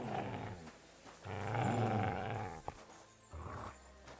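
A dog in the medieval game Kingdom Come: Deliverance 2 growls in several deep, rumbling bursts with short pauses between, the longest swelling in the middle.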